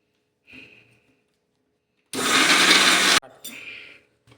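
A kitchen mixer grinding momo chutney with lemon juice and sugar gives one loud, harsh whirring burst of about a second. Faint quiet sounds come just before and after it.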